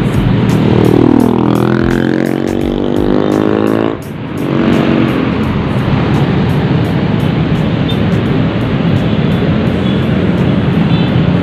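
A Hino RN 285 bus sweeps past on a city road corner, its engine tone falling as it approaches and goes by, followed by steady loud road and engine roar with no talking.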